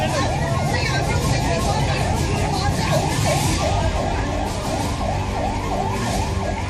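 An ambulance siren wails through the streets of Kathmandu after an earthquake, its rising and falling tone repeating steadily over constant loud traffic and crowd noise, with voices in the background.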